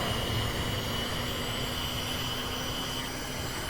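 Steady auxiliary power unit hum of a simulated VTOL aircraft in the VR flight game, a constant broadband whine with a thin tonal drone, running alone after startup.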